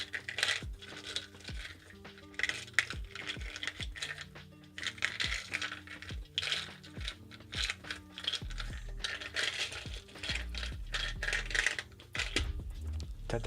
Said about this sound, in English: This is how we shuffle runes now.